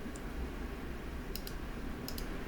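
A mouse clicking a cockpit button in Flight Simulator 2020 aboard a 208B Grand Caravan, a few crisp small clicks in quick pairs over a quiet steady engine hum.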